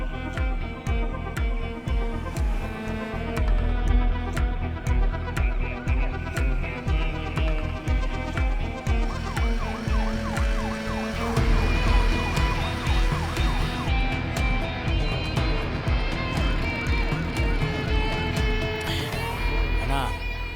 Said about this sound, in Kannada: ಕುಳ್ಳಂಬಾಡಿ ಏರಿಯಾದಲ್ಲಿ ಒಂದು ಆಂಬ್ಯುಲೆನ್ಸ್ ತುಂಬಾ ಹೊತ್ತಿಂದ ಓಡಾಡ್ತಿದೆ